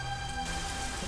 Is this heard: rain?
yes